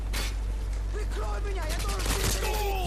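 A suppressed SCAR rifle firing in Call of Duty Modern Warfare 2 on the Estate map, muffled rapid shots over dense game noise with whooshing effects, while someone talks over it.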